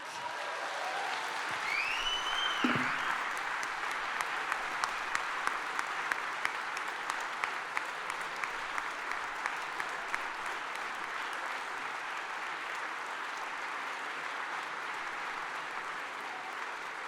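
An audience applauds to welcome Conrad Black onto the stage, steady hall-filling clapping that holds for the full length with a few louder individual claps, a short vocal whoop early on, and no talking.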